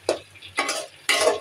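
Spice masala being stirred and sautéed in a pan with tomato while cooking fish, three short bursts of scraping and sizzling, close and moderately loud, with no talk.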